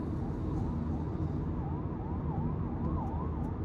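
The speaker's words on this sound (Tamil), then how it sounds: "ஃப்ரண்ட்டில் இப்போ பார்த்தீங்கன்னா அந்த ஆம்புலன்ஸ் வருது" An ambulance siren wails faintly in the distance ahead, its rising and falling tone buried under steady road and engine noise inside a Honda City CVT.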